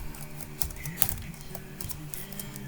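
Keys clatter on a computer keyboard during data entry in an Access database, a quick, uneven patter of close clicks with some sharper taps.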